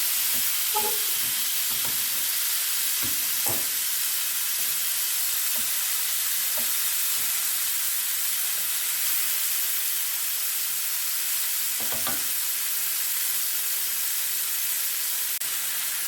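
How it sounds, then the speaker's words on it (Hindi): Chicken fries in hot oil in a pan, a constant fine hiss with a few scattered taps and stirring clatters, close and alone with no voices. "अब इस चिकन को हम जो है वो गोल्डन होने तक इसे पकाएंगे"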